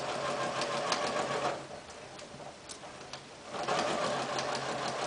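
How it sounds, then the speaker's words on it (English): A sewing machine stitches a 5/8-inch sleeve seam, back tacking at the start and end of the seam line: a steady fast mechanical whir with ticking, briefly easing off mid-run before picking up again, close and alone. "I'm going to seam that at 5/8 of an inch because that's what my pattern shows, and I'm going to do some back tacking at the front and end of this seam line"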